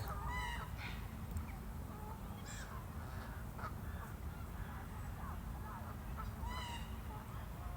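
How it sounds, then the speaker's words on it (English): Flock of waterbirds on the lake at Fairlop Waters, London, with repeated caws and honks rising over a steady low hum, fairly distant and faint. "So many birds."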